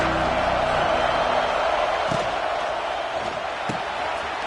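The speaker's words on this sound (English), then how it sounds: "This crowd ready to make its presence known." Stadium crowd noise in a simulated football game: a steady, dense roar of many voices fills the space at high level throughout, with a few faint thuds and no distinct speech.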